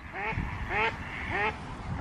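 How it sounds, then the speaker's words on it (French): Ducks quack near the water in a holiday outdoor setting, a few nasal calls repeating in a loose rhythm at moderate distance. "Tu vois les canards? T'as vu? Ils sont jolis, hein?"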